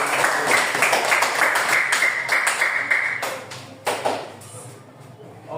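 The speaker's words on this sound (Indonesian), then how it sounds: "Ya, tepuk tangan dulu." A short burst of clapping from a class after a presentation, fairly close, fading out after a few seconds with some background chatter.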